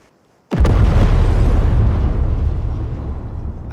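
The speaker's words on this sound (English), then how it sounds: "She's burning! Quick, before she blows!" Car explosion in Cyberpunk 2077: a sudden loud blast hits after a short quiet, followed by a long, dense rumble of roaring fire and debris that slowly fades but stays loud to the end.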